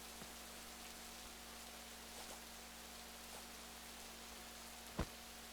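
Steady rain falls in the Rising World video game, a faint, even hiss that runs unbroken throughout, with one sharp click near the end.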